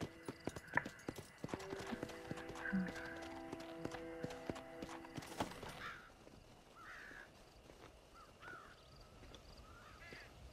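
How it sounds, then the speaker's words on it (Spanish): Horse galloping in the Red Dead Redemption video game, rapid rhythmic hoofbeats clip-clopping close and loud for about six seconds, then fading out, with crow caws scattered over the sound. "¿No puedo correr el caballo?"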